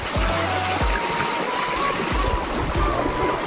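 Floodwater surges forcefully through an Odisha village, a loud, continuous rushing wash with splashing and gurgling, heavy and close.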